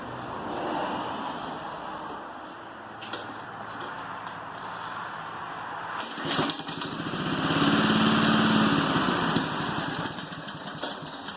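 Yard Machine lawn mower engine running during a rebuild, a steady close putter that swells louder toward the end while the idle is adjusted.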